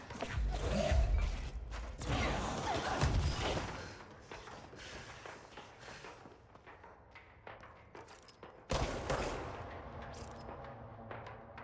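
Enemy gunfire from a distance in Control, sharp shots and rattling bursts clustered early and again near the end, mixed with impacts and mechanical clatter, moderately loud with quieter gaps between.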